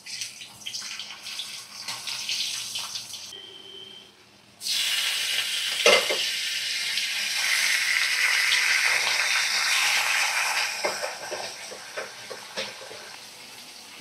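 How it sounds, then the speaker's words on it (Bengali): Potatoes frying in oil in a wok give a steady, fairly close sizzle, which briefly dips before returning louder and continuing with scattered small clinks and crackles. "এখন দেখো কড়া একটু আলু ভাজা করছি।"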